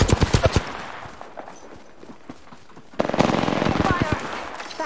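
Rapid bursts of automatic gunfire in a squad-based shooter video game, a fast rattling volley at the start, a quieter gap with scattered shots, then a loud sustained stretch of firing, with game voice callouts mixed in.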